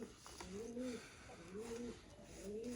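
A pigeon coos softly three times in a steady, rhythmic pattern, with background noise behind it.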